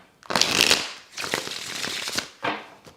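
Handmade tarot cards are riffled and bridged close up in several quick bursts, each a crisp fluttering rush of card stock with short pauses between them.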